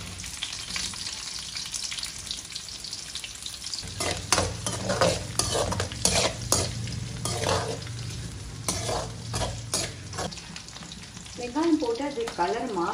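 Chopped onion and ginger sizzle in hot oil in a pan while a spoon stirs them, giving a steady crackling fry broken by clattering scrapes that grow busier midway.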